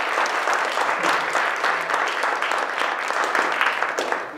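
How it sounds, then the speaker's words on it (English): An audience at a Politics & a Pint talk gives a round of applause for a speaker, a steady, fairly loud patter of many hands clapping together with no talking over it. "Let's give a big round of applause to Savo."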